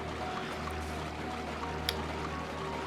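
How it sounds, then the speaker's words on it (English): Bubbling water ambience from the video game Chained Echoes, a steady low gurgling bed with a faint brief pop near the end, no talking. "That's the bubbles that lead to the middle."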